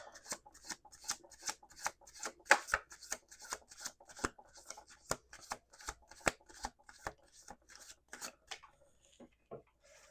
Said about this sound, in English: do some more shuffling